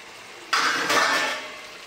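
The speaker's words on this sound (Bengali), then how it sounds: "এবার আলুগুলো ঢেলে দিচ্ছি। এই যে আলু" Fried potatoes tipped into a cooking pan with a sudden loud clattering rush that swells twice and then fades over about a second, with no talk.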